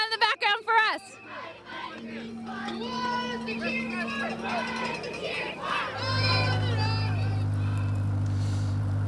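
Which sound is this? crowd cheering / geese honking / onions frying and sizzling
crowd cheering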